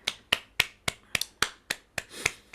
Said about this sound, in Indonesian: Boleh tepuk tangan Bapak Ibu sekalian